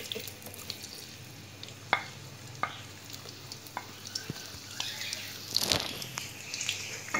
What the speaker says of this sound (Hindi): पैन में हमने ऑयल डाल लिया है, अब हम इसमें प्याज डाल देते हैं।